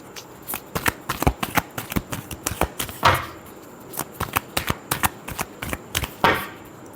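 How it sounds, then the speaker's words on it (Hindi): Tarot cards are shuffled in a quick series of crisp, riffling bursts, close and clear, coming in uneven clusters with brief pauses between. "last shuffle"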